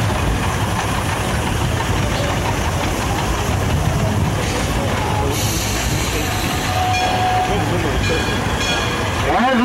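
Narrow gauge train rumbling steadily across a trestle among redwoods, a loud continuous clatter and engine drone with a brief squeal near the end, with voices talking faintly over it.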